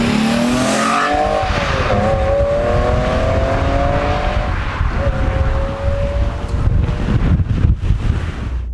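An Alfa Romeo 156 with a 2.5-litre Busso V6 revs and pulls from inside the car, its rising tones sweeping up and down over heavy wind rush and road noise.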